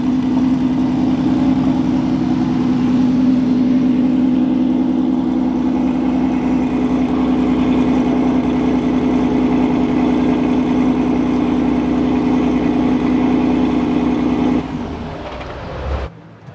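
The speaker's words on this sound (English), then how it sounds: "And that's just one engine." A VW Lupo drag car fitted with two VR6 engines idles close and loud with a steady, throaty rumble and a strong low hum, running evenly before dropping off sharply near the end.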